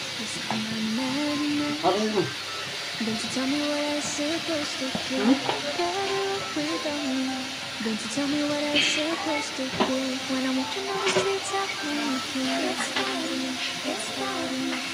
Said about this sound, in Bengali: এখন আর একটু ভালোভাবে নেড়ে চেড়ে এগুলো আগে মিশিয়ে নিবে।